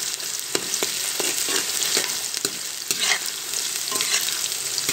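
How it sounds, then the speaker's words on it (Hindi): Onion frying in a pan with nigella and fenugreek seeds while being stirred, a steady close sizzle broken by frequent short scraping clicks of the spoon, with no voices. "प्याज, कलवंजी और मेथी दाना को हम 1-2 मिनट तक भूनेंगे।"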